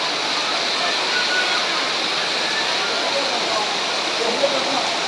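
Heavy rain pouring steadily at evening, a dense unbroken hiss of water close by with no pauses, one small splash near the end.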